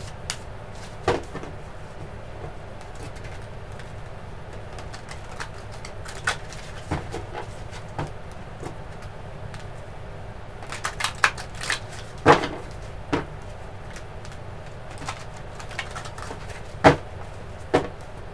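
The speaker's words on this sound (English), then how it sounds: "Give me a minute to just shuffle" Romance oracle cards are shuffled by hand, giving soft, scattered flicks and taps with a few sharper bursts. The sounds are quiet and close, with long pauses between them and no talking.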